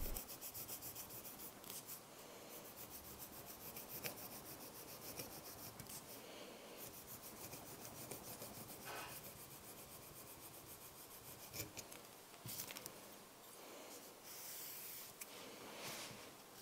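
Leather being skived thin for a wallet card pocket, a continuous soft scraping and rasping close by, faint, with no talking.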